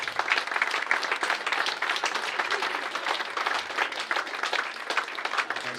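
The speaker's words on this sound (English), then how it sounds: "So just a round of applause for the girls." Audience applause at an awards presentation night, steady dense clapping from a crowd for nearly six seconds at moderate level.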